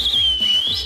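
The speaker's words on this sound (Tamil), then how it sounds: "ஒரு பெரிய விசில் அடிங்க." A loud, sustained whistle carries over continuous background noise, its pitch dipping slightly and then sliding upward near the end, for a Chennai Super Kings cricket cheer.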